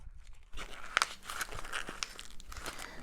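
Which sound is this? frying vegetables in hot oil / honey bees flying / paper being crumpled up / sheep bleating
paper being crumpled up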